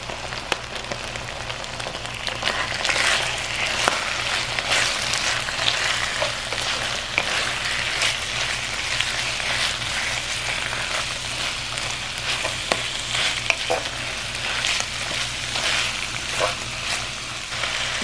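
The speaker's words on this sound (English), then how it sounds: "add in your ground pork. Give it a good mix and continue to cook the pork." Ground pork sizzles and fries in a pot for low carb red curry noodle soup, a steady crackling hiss with occasional clinks and scrapes of stirring throughout.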